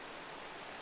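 Steady broadband rain ambience from Minecraft, a constant hiss with no distinct drops, filling the whole moment without any voices.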